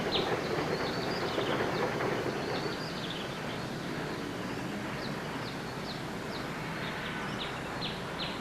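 A trolley in Scranton and Wilkes-Barre, Pennsylvania backs into a siding off the main line with a continuous low rolling rumble and faint squeaky clicks of wheels on rails, while birds chirp lightly in the background.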